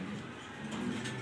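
Low cooing from pigeons, including a big female, drifts faintly through a noisy, hissing room. The murmur is continuous and quiet, with no clear speech over it.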